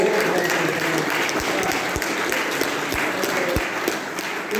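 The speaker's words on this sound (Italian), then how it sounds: "Sì, un applauso ancora a loro." Steady applause from an audience at a Friulian poetry event, continuous and fairly loud throughout, with a dense wash of clapping and a few sharper individual claps standing out.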